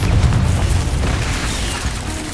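A Confringo spell blast in Hogwarts Legacy goes off as a deep, rumbling explosion, a sustained boom with crackling debris that holds loud for a couple of seconds.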